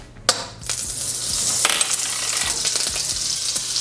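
Salted butter hitting hot oil in a pan for tofu sisig, with an initial sharp crackle and then a steady, loud, hissing sizzle dotted with small pops, and no voices over it.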